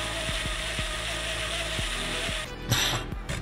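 A cordless drill whirs steadily through a brass sheet, with irregular ratcheting clicks underneath, then the motor stops and a brief clatter follows.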